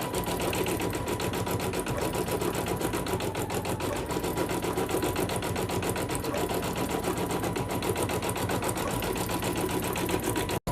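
A single-needle embroidery machine stitches lettering onto a child's sweatshirt with a loud, rapid, unbroken chatter of needle strokes throughout, cutting off sharply at the very end.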